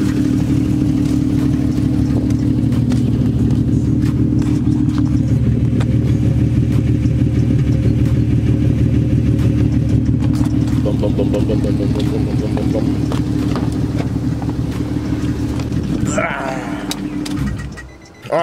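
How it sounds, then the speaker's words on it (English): An Infiniti G35 coupe idles with its exhaust removed, giving a loud, steady, close engine drone with a raspy rattling texture throughout before it cuts out near the end. "it's more rattling noise now because the exhaust is off"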